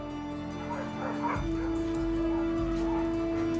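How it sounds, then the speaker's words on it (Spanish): Several puppies at an animal shelter give soft yips and whimpers over a steady background hum, fairly faint and somewhat distant, with no single dominant bark. "Recuerdo que cuando fui había varios cachorros allí."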